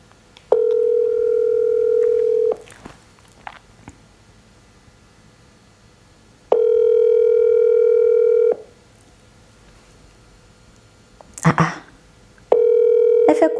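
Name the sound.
telephone ringing tone while calling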